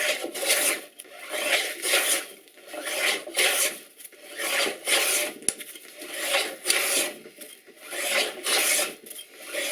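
A hand plane shaves a wooden workbench top in long, rhythmic rasping strokes, about one every second and a half, close and clear with no voices.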